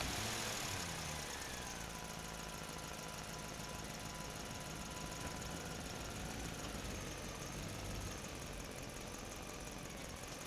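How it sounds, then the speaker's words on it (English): A bus engine roars loudly and steadily with a rough, knocking rumble that fills the whole span without a break, as the vehicle pulls away on a road at night. "The engine roared to life, and just like that, the bus rolled away"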